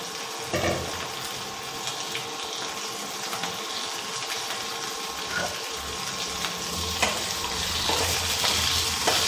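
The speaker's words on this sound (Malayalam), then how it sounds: "ജീരകം അധികം ഫ്രൈ ആവണ്ട, അതിനൊന്ന് നമുക്ക് കോളിഫ്ലവറും ഉരുളക്കിഴങ്ങും കൂടി ഇട്ട് കൊടുക്കാം." Cauliflower and potato go into hot oil with cumin seeds and fry in a pan. A steady, close sizzle keeps going throughout, with a few stirring clatters on top.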